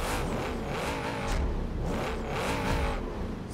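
A car engine in the Forza Horizon 3 racing game revs hard in repeated rising and falling surges, loud and close, with no talking.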